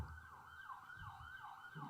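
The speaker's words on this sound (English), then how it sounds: "Triggering this with the sirens in the background." Sirens wail faintly in the background with a steady, repeating up-and-down sweep, carried under a low rumble of traffic.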